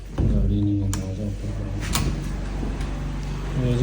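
A house door is locked with a few sharp, close clicks and clunks while someone talks over a steady background hum.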